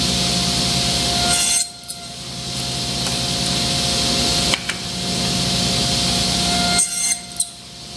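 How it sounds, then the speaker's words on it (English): A table saw cuts a wooden tenon with a crosscut gauge, running in three long passes: a steady motor hum with bright rasping bursts as the blade bites the wood, separated by brief quieter gaps. "So just a matter of running across the saw."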